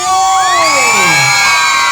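Crowd at the Keboan traditional ritual in Aliyan, Rogojampi, Banyuwangi, loud and close, with many voices shouting, whooping and cheering at once, including high children's cries rising and falling over each other.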